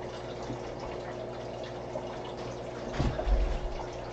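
Water pours and trickles steadily during an aquarium water change, a soft continuous wash with a brief louder splash or gush near the end.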